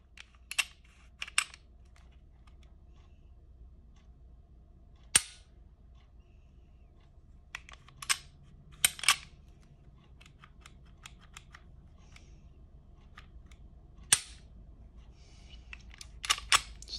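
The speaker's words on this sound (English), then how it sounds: "go ahead and put our slide back in and test the trigger" A CMC Glock trigger is dry-fired to test it, giving sharp isolated clicks spaced irregularly with a few quicker clusters, close and crisp against a quiet background, with no talking.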